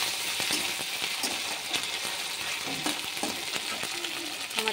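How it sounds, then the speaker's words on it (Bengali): Chopped tomato fries in hot oil with spices, giving a steady, close sizzle with scattered crackles and stirring scrapes throughout. "টমেটো কুচি দিয়ে দিলাম।"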